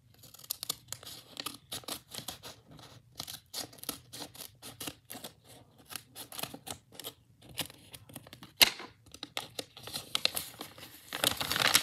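Scissors cutting paper for a giant Santa hat blind bag: close, crisp snips and crinkles in quick irregular succession, with paper rustling throughout and no speech.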